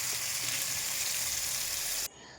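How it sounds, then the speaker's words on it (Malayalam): Cauliflower pieces coated in masala fry in a pan with a loud, steady, close sizzle that holds unbroken, then drops abruptly to a faint hiss near the end. "അതൊന്ന് ചെറുതായിട്ടൊരു മസാലയൊക്കെ പുരട്ടി ഞാൻ വറുക്കാൻ വെച്ചു കേട്ടോ"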